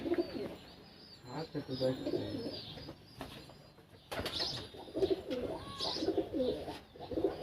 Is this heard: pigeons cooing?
yes